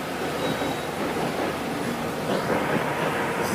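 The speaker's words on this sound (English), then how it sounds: "This is a Norfolk Southern train" A Norfolk Southern freight train rolls past near a rail yard, its loud, continuous rumble with wheel noise and faint squeals filling the whole stretch.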